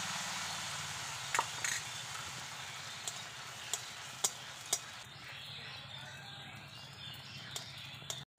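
Green pea chops frying in a small batch of oil in a wok, a soft continuous sizzle broken by a few sharp clicks and taps of utensils against the pan, heard close and moderately quiet.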